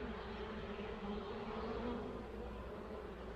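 Honey bees in a queen mating nuc give off a steady, dense buzzing hum close by, faint overall and continuous throughout, with no voices.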